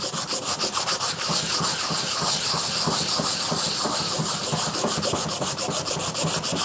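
A wooden board being sanded by hand gives steady, rhythmic scratchy rubbing strokes, loud and close, with no talking throughout.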